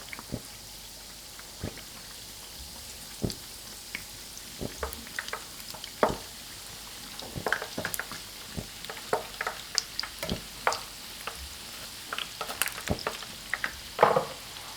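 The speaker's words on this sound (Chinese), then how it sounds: "全程保持中火慢炸，不要一下炸糊。" Dough buns for homemade burgers deep-fry in oil over medium heat, a soft continuous bubbling sizzle peppered with scattered crackling pops, fairly quiet and close, with no voices.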